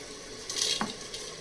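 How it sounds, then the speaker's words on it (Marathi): Washed rice is tipped into a pot of vegetable biryani base, giving one short, close rattling swish with a faint sizzle against quiet background. "यामध्ये आता आपण तांदूळ ॲड करणार आहोत."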